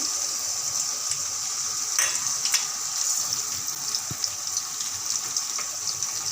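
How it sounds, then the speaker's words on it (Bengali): Garlic paste hits hot oil while a pickle is made, giving a continuous bright sizzle with a few soft clicks and scrapes, moderately loud and close, with no voices. "এখন আমি রসুন বাটা দিয়ে দিচ্ছি।"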